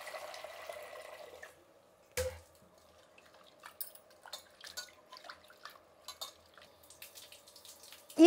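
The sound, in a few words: washing lentils (dal) in water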